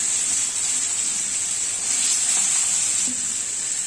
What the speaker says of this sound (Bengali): এবার মশলা দিয়ে তেলে ভেজে নেব। এবার একটু গাজর আলু দিয়ে দিলাম।